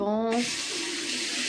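Water runs steadily from a tap into a sink while the face is rinsed with a sponge during a skincare routine, a broad close hiss following a brief spoken phrase at the start.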